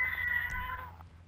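A single cat meow, short and fairly clear, rising then fading over steady low background hum in a GTA 5 Online session.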